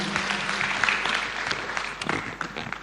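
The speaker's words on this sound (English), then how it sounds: "Just clap for her as she sits down." An audience at a women in construction sector forum claps steadily for a woman as she sits down, a dense wash of applause from near and far with a few sharper claps standing out.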